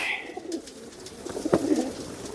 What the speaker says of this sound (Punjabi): ਇਹ ਕਬੂਤਰ ਆ ਜੀ ਕਬੂਤਰ ਹਾਂ